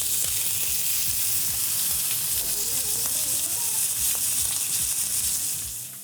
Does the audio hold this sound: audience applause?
no